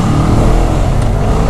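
A Honda VFR 1200F motorcycle accelerates hard nearby, its engine giving a loud, deep, continuous roar that builds as it pulls away.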